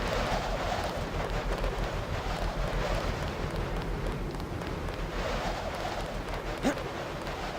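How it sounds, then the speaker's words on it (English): Wind blows in an exposed high spot in the video game Deus Ex, a steady rushing hiss with low rumble that swells slightly and holds on, with no voices. "Okay, it's a bit windy up here."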